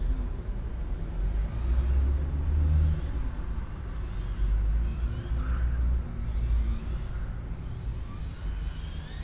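RC touring car (PTG2R) on the GT track at Loos, a continuous whirring motor drone that swells and eases with throttle, close and steady, no talking.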